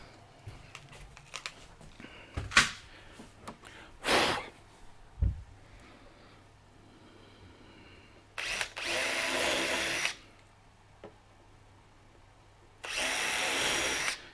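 A power drill runs in two sustained loud bursts on a melamine drawer, each lasting a couple of seconds, after scattered clicks, rustles and short bumps in a quiet workshop.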